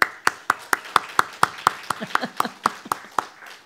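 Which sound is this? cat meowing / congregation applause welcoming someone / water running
congregation applause welcoming someone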